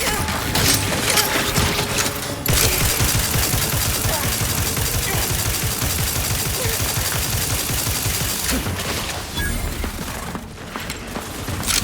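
Dense, sustained gunfire from a firefight in The Outer Worlds 2, with rapid bursts blending into a continuous roar that eases off slightly near the end, loud and close with a busy game soundscape.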